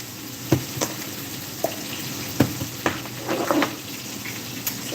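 Hake fillets fry in hot oil with a continuous close sizzle, broken by several sharp pops and crackles.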